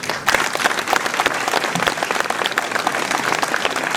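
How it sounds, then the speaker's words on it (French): An audience at a mayor's New Year ceremony in Ouistreham Riva-Bella applauds steadily; the clapping stays dense and loud throughout, with a faint crowd murmur beneath. "On peut applaudir Madame Desvaux."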